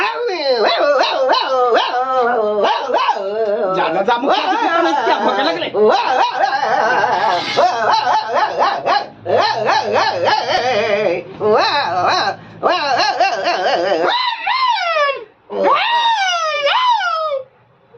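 A dog barks and howls repeatedly at close range in a rural home during a fish-and-rice meal, a loud run of wailing, yelping cries that carries most of the stretch, mixed with a man's speech.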